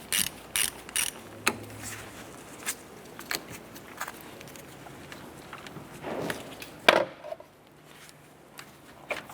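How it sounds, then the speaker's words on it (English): Socket ratchet working a car battery terminal nut on a 1993-1997 Ford Ranger, a series of sharp ratcheting clicks and metallic clacks in uneven bursts, close and fairly loud, with handling knocks between. "13mm socket, go ahead and remove our ground terminal nut here."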